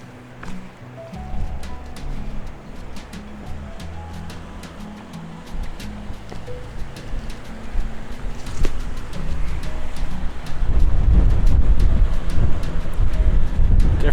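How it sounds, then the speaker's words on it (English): Gusty wind at a creekside campground, a steady rushing roar that swells louder in the final few seconds, with faint water or surf-like noise beneath. "Definitely a bit windy around here though."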